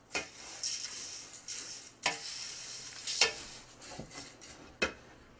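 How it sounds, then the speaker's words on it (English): Dry granola ingredients dusted with cinnamon are stirred together in a bowl, giving a soft steady rustling hiss broken by a few sharp spoon scrapes and clicks against the bowl, close and fairly quiet, with no talking. "So you mix all those dry ingredients together."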